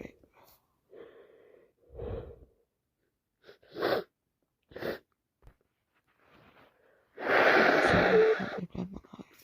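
Wet, congested sneezes and sniffs from someone with a bad head cold, a few short snorts and gasping breaths followed by one loud, spluttering sneeze near the end, close to the mic in a quiet room.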